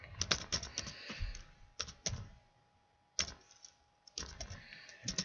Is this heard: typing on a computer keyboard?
yes